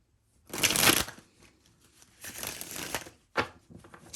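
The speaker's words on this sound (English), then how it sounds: "Shuffle that deck." A tarot deck being riffle-shuffled up close: a loud fluttering burst, a softer second riffle, then a quick snap and a few light shuffles.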